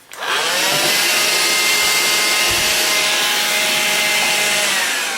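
A vacuum cleaner runs close and loud while cleaning up mess on a workshop bench. It starts suddenly and then holds a steady, unbroken whine with bumps and knocks along the way.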